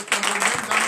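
Congregation at a morning prayer service in Benin applauding and cheering, a dense steady wash of clapping hands sustained throughout, fairly loud and close.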